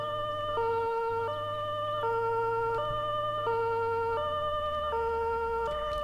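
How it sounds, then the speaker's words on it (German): A VW Caddy emergency vehicle in Roblox blares a two-tone siren, loud and alternating in a regular rhythm about every 0.7 seconds, over a low engine hum. "dabei nochmal den schönen Sirenensound von dem VW Caddy"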